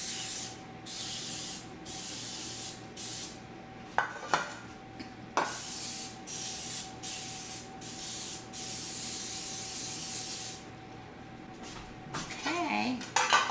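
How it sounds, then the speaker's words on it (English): Coconut oil cooking spray hisses from a can in a series of quick, close bursts while greasing a pan for a gluten-free, dairy-free red velvet cake, followed by a few light metallic clinks of the pan near the end. "this is coconut oil, and I spray it very liberally because I don't want it to stick"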